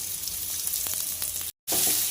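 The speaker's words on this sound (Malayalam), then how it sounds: "സവാള നല്ലതായിട്ട് വഴറ്റി ഒരു ബ്രൗൺ കളർ ആവുന്ന വരെ നമ്മൾ വഴറ്റി കൊടുക്കാം" Garlic and chopped onion sauté in hot oil for prawn fried rice, a loud, steady sizzle with occasional stirring scrapes, broken by a brief silent gap before the frying noise resumes.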